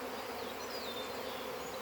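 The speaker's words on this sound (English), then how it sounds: "There were bees all in the air. They're all over everywhere." A steady, dense buzzing of many Carnica honeybees flying all around, continuous and fairly close, with no voices.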